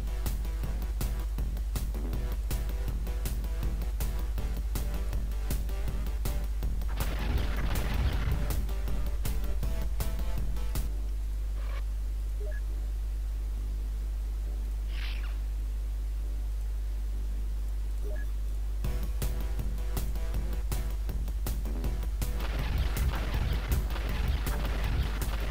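An interceptor opens fire on a UFO in UFO: Enemy Unknown, with rapid, steady bursts of gunfire over a constant static hiss. The shots stop partway through, leaving the hiss alone, then start up again for a second volley.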